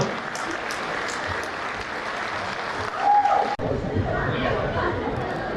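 Audience applause fills a hall at a Brahmin community gathering in Hyderabad honouring actor Sai Kumar's 50 years in cinema. The clapping is dense and sustained, mixed with crowd chatter, swells briefly, cuts out for an instant, then carries on.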